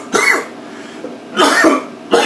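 A man coughs three times, close to the microphone, each cough a short harsh burst with quiet gaps between them and no speech.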